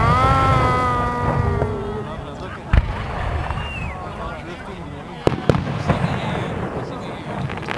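Fourth of July fireworks burst outdoors at Perry Park, Colorado, with distant booms and sharp cracks under a crowd's murmur and voices, a couple of louder pops standing out.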